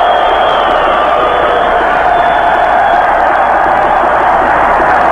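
A dense stadium crowd of Corinthians supporters cheering and roaring continuously at a 1993 Brazilian championship match against Cruzeiro, a steady loud wash of massed voices filling the whole stretch.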